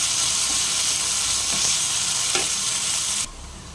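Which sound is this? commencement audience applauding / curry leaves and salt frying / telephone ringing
curry leaves and salt frying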